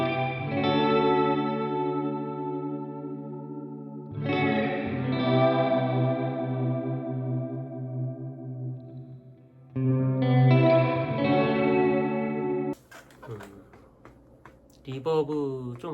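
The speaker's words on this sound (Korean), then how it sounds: "이 플레이트 리버브에는 모듈레이션이 있구나." Electric guitar played through the plate reverb with modulation on an M-VAVE MK300 multi-effects unit: sustained chords ring out with a shimmering, wavering tail, struck three times, then a few scratchy muted strums close out the passage, with no talking.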